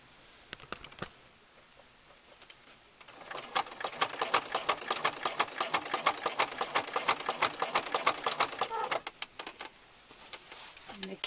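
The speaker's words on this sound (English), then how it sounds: "I'm going to sew in about a 1/2 inch." A sewing machine stitching a half-inch seam along the pinned fabric edge of a reversible crib comforter. A few needle strokes come first, then a long, steady, rapid stitching run that pauses briefly before resuming.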